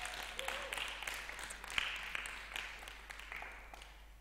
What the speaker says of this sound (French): Est-ce qu'on peut les applaudir encore une fois?